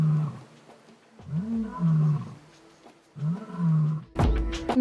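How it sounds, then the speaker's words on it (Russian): A lion roars in the Kalahari, a series of deep, grunting roars in three drawn-out bouts, loud and resonant against a quiet background, followed by a sharp close knock or thump at the end. "Где-то вдалеке мы слышим рык льва."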